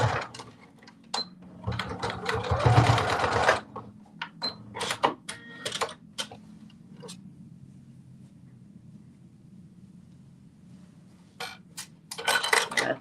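A sewing machine stitching slippers runs in short bursts of rapid mechanical whirring, separated by clicks and pauses, with a longer burst near the start and another at the end.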